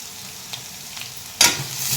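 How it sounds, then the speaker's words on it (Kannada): Vegetables frying in oil in a pan with salt for masala Maggi, quiet at first with a couple of light taps, then a loud burst of sizzling and stirring that keeps going. "ಉಪ್ಪು ಹಾಕೋದ್ರಿಂದ ಎಲ್ಲ ವೆಜಿಟೇಬಲು ಬೇಗ ಫ್ರೈ ಆಗ್ತೈತಿ"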